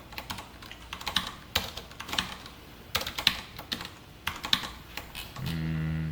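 Close-up typing of Python code on a computer keyboard: uneven bursts of crisp keystrokes separated by short pauses, with no voices.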